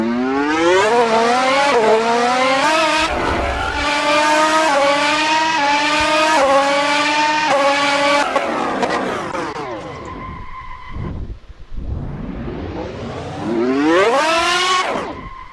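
Race car engine in a racing video game, loud and continuous, rising and falling in pitch through gear shifts, with a drop into a turn, a squealing tire skid and a steep rev back up; no talk.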